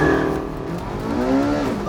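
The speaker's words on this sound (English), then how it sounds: "918 is four-wheel drive, so it gets off the line better." Porsche 918 four-wheel-drive hypercar accelerating hard off the line, a loud continuous engine roar with rising pitch filling the whole stretch, heard alongside other vehicle noise and a voice in the background.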